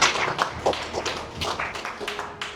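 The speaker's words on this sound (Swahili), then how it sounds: "Simpigia makofi." Audience in a money and wealth talk claps together, a sustained patter of many hands with a few sharper taps, filling the room at moderate loudness.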